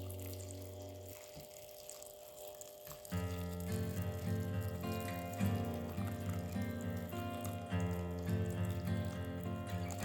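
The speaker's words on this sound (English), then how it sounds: "Boil our hot water. We're going to just pour in here." Boiled hot water poured over salted groundnuts while making a crunchy peanut snack, a steady close splashing stream rising in strength partway through and continuing to the end.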